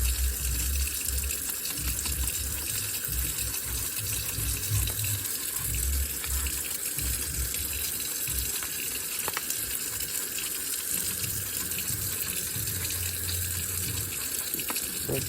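Water runs steadily from a tap or hose over a BMX brake caliper being rinsed clean, a continuous close splashing gush with faint scraping underneath and no talk.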